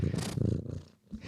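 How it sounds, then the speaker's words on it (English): A cat purrs close to a microphone with a steady low rumble, and a brief dip suggests it rubbing its face against the mic before the purring resumes. "What you just heard was the cat."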